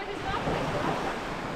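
Waves wash continuously onto a seashore at a campsite, a broad steady rush close by, with faint voices underneath.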